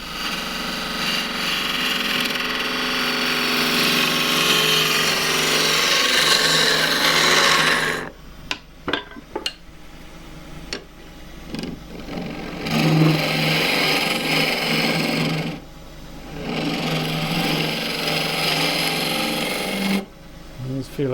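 Scraper cutting a dry jarrah burl on a wood lathe, a loud continuous rasping scrape that breaks off around eight seconds into intermittent short contacts, then returns in sustained bursts, with no voices.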